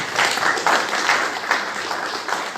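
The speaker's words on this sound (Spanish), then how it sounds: "Freddy Esteban Ortuño y Rafael Darío López, al cual por favor pido un fuerte aplauso a los 4" Audience applause for four speakers at a talk on federal ideas in Santa Cruz, steady moderate clapping from a seated crowd with slight pulsing, sustained throughout.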